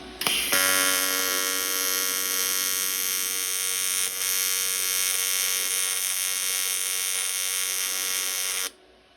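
A TIG welder tacking a soccer ball practice kit, a steady high buzzing arc hum that starts abruptly, holds nearly constant for about eight seconds, then cuts off.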